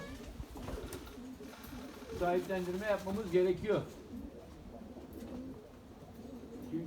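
Erzurum White pigeons coo in soft rolling bursts nearby in a coop while a person talks quietly over them.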